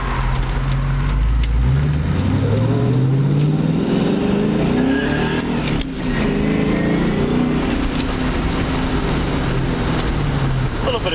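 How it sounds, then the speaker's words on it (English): A 2002 Ford Mustang GT drives hard with its engine revving and exhaust roaring up and down, the tires squealing briefly as it moves, all loud and close. "A little bit of tire squealage there."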